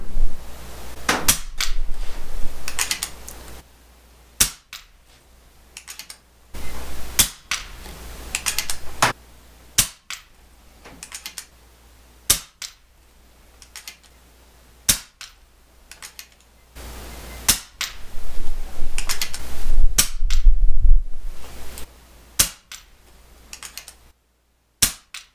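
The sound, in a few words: PCP air rifle shots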